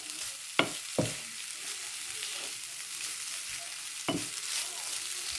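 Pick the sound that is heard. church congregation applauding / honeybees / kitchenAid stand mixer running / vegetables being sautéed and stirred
vegetables being sautéed and stirred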